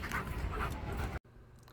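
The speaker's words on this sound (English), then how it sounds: "Oh, no, my big puppy." A big puppy pants quickly and breathily close by for about a second before the sound cuts off abruptly, leaving faint room noise.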